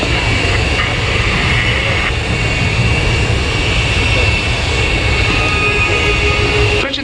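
Italian Air Force Frecce Tricolori aerobatic team jets at an air display, a loud continuous broadband roar holding steady throughout with no gaps.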